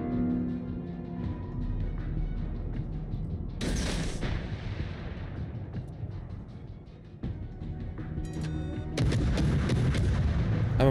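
Heavy naval guns in World of Warships, a naval combat video game, boom in broad bursts around four and nine seconds over a continuous rumbling battle bed, loud and close with a lingering roar.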